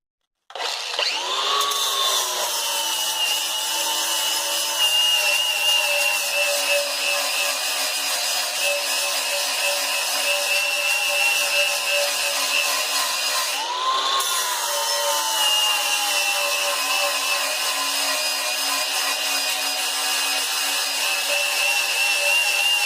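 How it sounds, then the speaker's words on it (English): A cordless DeWalt angle grinder cuts through metal on a Miata engine swap, spinning up with a sharp start and whining steadily and loudly at close range, with a brief dip and re-bite midway through the long cut. "I'm just going to use a grinder, just a cordless DeWalt"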